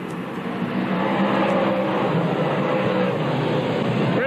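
Modified race cars roaring around Lebanon Valley Speedway, a continuous loud, dense engine drone from the field at steady intensity, heard from trackside.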